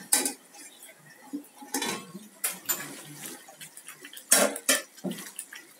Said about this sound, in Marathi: आपण झाकण काढूया.